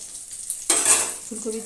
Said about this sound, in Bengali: এবার বেগুনটা ভাজবো